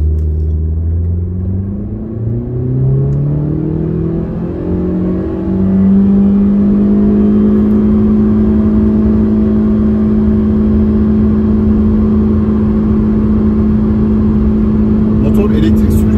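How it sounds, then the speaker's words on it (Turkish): A 2021 Honda Civic Eco Elegance engine accelerating on petrol in sport mode, a loud rising drone that climbs in pitch and then holds a steady high whine, heard from inside the car. "Motor elektrik süpürgesi gibi bağırıyor."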